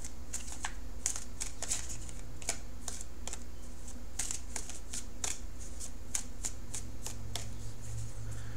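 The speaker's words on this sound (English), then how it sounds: "So I'm going to shuffle for the outcome card" Tarot cards being shuffled in steady repeated riffles and snaps, crisp close-up card slaps recurring through the whole stretch over a low constant hum, with no talking.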